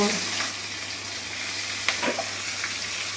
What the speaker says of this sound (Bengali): জিরে হলুদ দিয়ে আমি এটা একটু নেড়ে নেব